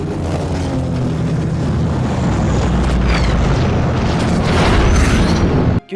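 A loud, sustained explosion effect depicting American firebombing raids on Japan, a deep rumbling roar that fills the whole stretch with no talk, swelling toward the end before cutting off abruptly.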